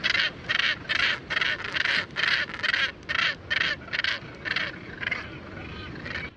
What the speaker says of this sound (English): Number 9, the northern gannet.